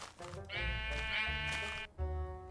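A sheep in an early alpha version of Minecraft gives one long, loud, wavering bleat up close, followed by the start of a second bleat after a brief gap.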